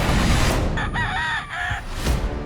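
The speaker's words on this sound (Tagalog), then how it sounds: "Narito ang libo-libo niyang mga manok na panabong" A fighting rooster on a large gamecock farm with thousands of birds crows once, a loud harmonic call cutting through steady outdoor noise, with no speech.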